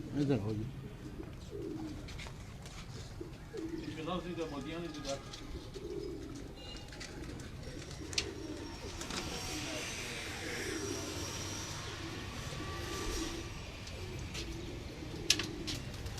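Pigeons coo softly in repeated low murmurs from a rooftop loft in Rawalpindi, over a steady outdoor background, with scattered chirps and faint voices nearby.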